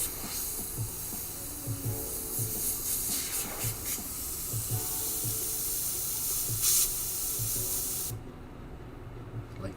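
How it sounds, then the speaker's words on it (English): An airbrush sprays reducer onto paper in a steady airy hiss lasting about eight seconds, with faint rhythmic low knocks beneath it, then cutting off abruptly. "So I'm just gonna put some reducer in here. We're just gonna do a quick little spray onto some paper."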